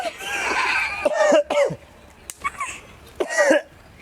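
A person in a lively party game coughs several times in place of laughing, with short bursts and throat-clearing sounds scattered across a few seconds, fairly close and loud.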